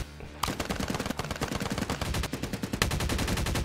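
Rapid automatic gunfire in a shooter video game bursts in suddenly and keeps going as a dense, loud stream of shots, some fired through a pet flap.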